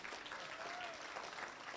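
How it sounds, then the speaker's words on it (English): Applause from an awards and induction ceremony audience, a steady, even wash of clapping that is fairly faint and distant, filling the whole moment without a break. "You can clap for that."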